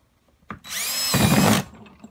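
A power drill bores a starter hole in the corner of a plastic tote, one loud whining burst of about a second that rises in pitch as the bit bites, then stops.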